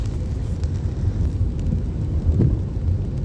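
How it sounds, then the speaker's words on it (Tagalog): Heavy rain falling in Abu Dhabi on a muddy road, a steady loud wash of dense low rumble with wind buffeting the microphone, continuous and without talking. "yan ang aming weather ngayon ang weather ngayon namin ay maulan"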